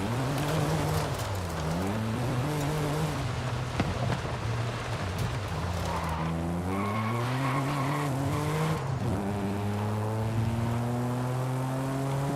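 A stock BMW M2 with a six-speed manual drifts in Forza Horizon 5, its engine note rising and falling through gear changes over constant tire skidding and squeal, loud and close throughout.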